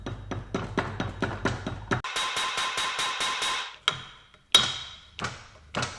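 A slide hammer works on the differential flange of a Jaguar S-Type, giving a fast run of sharp metallic knocks followed by a few heavier, spaced impacts, close and clear with no voices.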